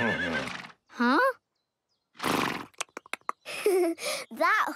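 A cartoon horse neighs in a loud, wavering whinny that is interrupted by short pauses and bursts of voice, with several sharp clip-clop-like hits between the calls.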